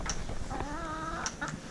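A farm chicken gives a few short clucks near the microphone in a quiet barn setting, with brief sharp calls and a drawn-out throaty note in between.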